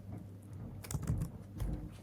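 Keys on a computer keyboard are tapped in a short burst of quick, close clicks, a few louder strokes standing out over a quiet room.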